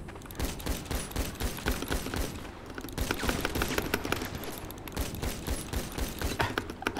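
Rapid gunfire in a GTA roleplay video game during a police exam, a dense, continuous volley of close shots repeating throughout.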